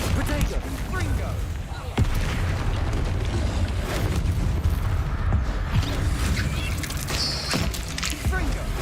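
In Hogwarts Legacy, Confringo fire-blast spells burst in a dense, continuous roar of booming explosions and crackling impacts, with a voice faintly mixed in.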